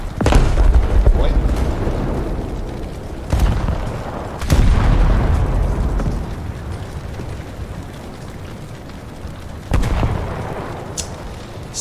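Battleship main-gun salvos boom in War Thunder, with several heavy blasts spaced a few seconds apart, each decaying into a long rumble, while someone talks between and over them.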